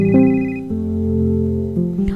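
A phone call to a mother rings out as a steady electronic ringback tone, sustained and fairly loud, with no talking.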